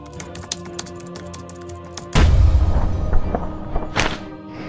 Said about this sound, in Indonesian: kamera saya tiba-tiba langsung terjatuh seperti itu